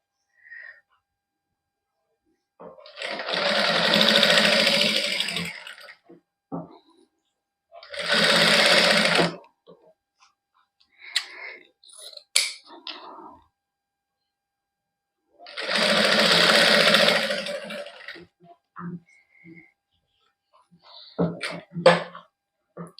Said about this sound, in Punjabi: ਇਹਨੂੰ ਰੱਖ ਕੇ ਉੱਪਰ ਕੱਚੀ ਸਲਾਈ ਲਾ ਲੈਣੀ ਇੱਕ ਵਾਰੀ